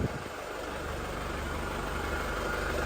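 Isuzu Panther LS Turbo automatic from 2001 idles on its turbo timer, a steady close diesel rumble that holds even and unbroken throughout.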